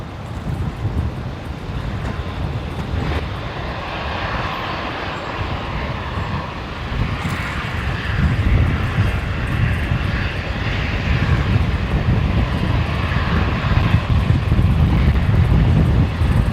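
A Virgin Australia jet departs from runway 19 left at Brisbane Airport, a loud sustained engine roar that builds and swells over many seconds with some wind noise, heard alone without talking.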